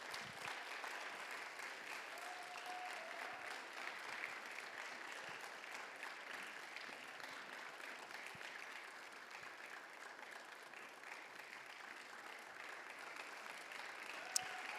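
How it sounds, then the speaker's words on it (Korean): A church congregation at a Sunday youth service applauds as cell leaders come up to the stage, a steady, fairly faint wash of clapping that holds for the whole stretch. "셀 리더들을 우리 박수로 맞이하도록 하겠습니다"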